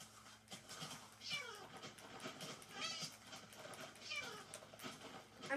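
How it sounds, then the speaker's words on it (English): Repeated cat meows from a Minecraft-style video game, with several drawn-out calls at a steady pace over continuous background game sound. "I'm killing this cat."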